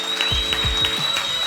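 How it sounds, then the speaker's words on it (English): An audience at a South African entertainment show applauds briefly, giving a short burst of scattered claps close to the microphone. "So can we please, a round of applause."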